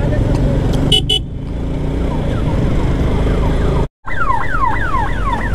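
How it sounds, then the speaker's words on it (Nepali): An ambulance siren sweeps up and down repeatedly amid busy road traffic in Dharan, loudest near the end after a brief cut, with engine noise and horns throughout. "सुरुमा एम्बुलेन्सलाई साइड दिउँ है अरू काम गरौँ"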